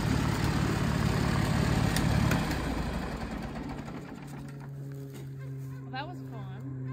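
An antique International Harvester tractor engine runs with a loud, steady low rumble, then is shut off around two seconds in, fading to a quieter lingering hum while people talk in the background.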